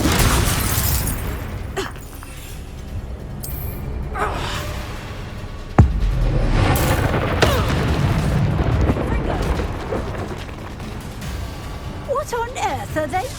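A Confringo explosion spell goes off in the game Hogwarts Legacy as a single sharp blast partway through, set among game voices, gasps and a busy background.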